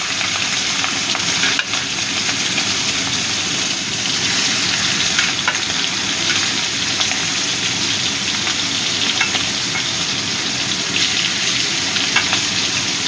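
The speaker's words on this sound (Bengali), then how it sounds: "চিংড়ি মাছগুলো আগে প্রথমে একটু ভেজে নেব" Prawns fry lightly in a pan, giving a steady, loud, even sizzle with fine crackling that holds unbroken throughout.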